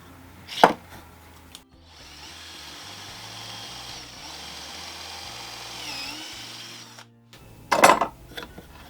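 Two short, loud bursts of a power drill with a 6mm wood bit boring holes into wood, one near the start and one near the end, with a steady low hum between.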